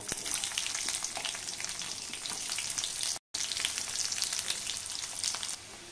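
Onion pieces fry in hot oil with mustard seeds and cumin, a loud, dense, crackling sizzle with scattered pops, continuous apart from a brief cut, with no voices.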